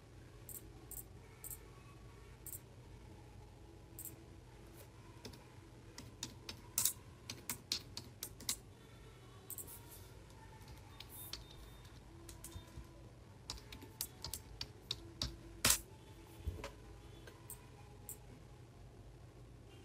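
Computer keyboard keys tapped out a username and password in an office, with light, irregular clicks and a few sharper key strikes, quiet and close, without speech.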